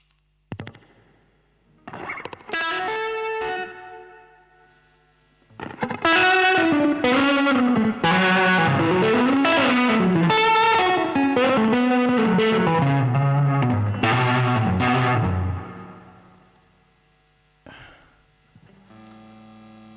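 A distorted, lo-fi electric lead guitar plays a winding melodic run of quick notes, with scattered plucks before and after, no talking.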